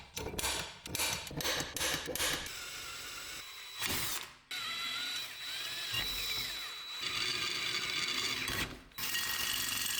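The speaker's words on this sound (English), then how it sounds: "I'm gonna remove all that blue with the Dremel" A Dremel rotary tool grinds blue material out of a hole on an E46 drift wagon's hydraulic handbrake setup, close and loud, in bursts of high whine broken by brief pauses.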